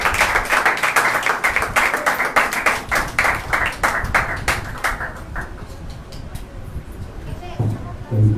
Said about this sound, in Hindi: आइए जोरदार तालियां बजाएंगे परमेश्वर के दास के लिए।